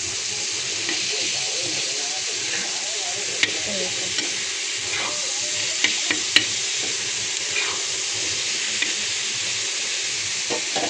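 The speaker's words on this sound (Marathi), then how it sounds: "आता अजून हे आपण थोड्या वेळ परतू देऊ चांगलं।" Chopped tomatoes with a pinch of salt sauté in a pan for tawa anda bhurji, giving a steady close sizzle broken by a few sharp scrape and stir clicks.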